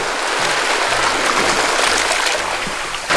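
Waves wash over rounded pebbles on a Korean island's pebble beach, making a steady, loud, broadband rush and hiss of water and stones that continues throughout with no break.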